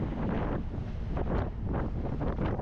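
Wind buffets the microphone on an open-top tourist bus heading back into central Las Palmas, a rough, gusting roar that swells and fades in uneven surges with no voices.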